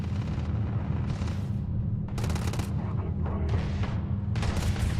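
Bursts of gunfire in Starfield fire at robots in a sci-fi firefight, arriving in several loud, dense volleys over a continuous low engine-like rumble.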